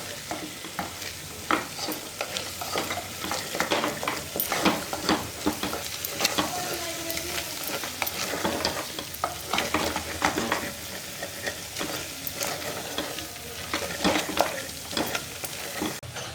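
Chicken curry with curry powder is stirred in a sizzling frying pan, repeated scraping strokes of the spoon over a constant close frying hiss, with no voices.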